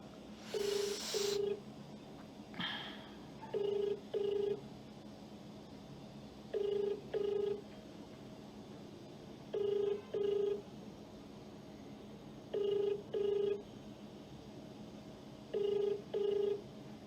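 A phone rings back on an outgoing call in a repeating pattern of paired beeps at steady intervals, fairly faint against a low background hum, with no one speaking.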